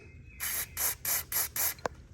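Five short, bursting hisses of lubricant spray on a Cub Cadet XT1 lawn tractor, evenly spaced and close, followed by a single faint click.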